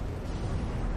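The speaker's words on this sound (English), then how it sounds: "Friendly airstrike on the way." Airstrike explosion in Call of Duty: Modern Warfare 3, a loud, dense, rumbling blast that fills the whole moment with a continuous deep roar and no voices.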